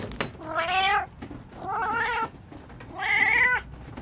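An outdoor cat meows three times, drawn-out and plaintive, each cry about half a second long with short pauses between, close and clear.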